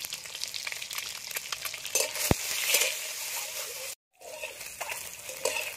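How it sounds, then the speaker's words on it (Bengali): Eggs sizzle and crackle steadily in hot oil, with a sharp tap of a utensil and a brief drop in the sizzling near the end. "এবার ডিমগুলো ভেজে নেব।"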